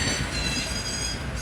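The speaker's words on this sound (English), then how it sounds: "So we finally get on the working shuttle" Steady rumbling of an airport shuttle train in motion, a loud continuous roar with faint wheel squeal on top, no voices.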